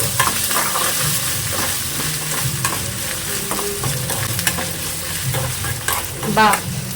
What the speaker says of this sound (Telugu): ఇప్పుడే ఫ్రెష్గా దంచుకున్న అల్లం వెల్లుల్లి పేస్ట్ వేసేసుకొని మంచిగా మిక్స్ చేసుకొని ఇది కలిసేంత వరకు కలుపుకోవాలి